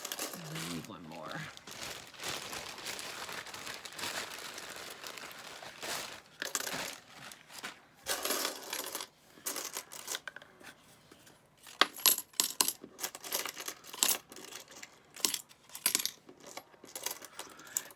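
Dimes, nickels and quarters clink and clatter as they are handled and dropped while being counted, an irregular run of close metallic jingles, with a voice talking early on.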